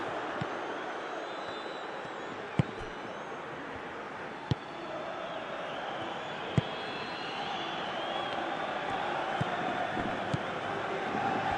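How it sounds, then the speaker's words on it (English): Stadium crowd in PES 2021 football match, a steady loud roar of massed voices swelling as fans urge a player to shoot, with a few sharp clicks scattered through. "Crowd calling for him to shoot."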